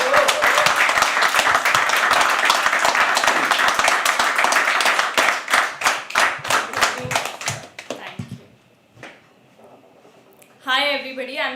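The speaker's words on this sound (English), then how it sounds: "Keep clapping till she comes on stage." An open mic poetry crowd claps loudly and steadily, the applause thinning into scattered individual claps before fading out, followed by a brief burst of speech.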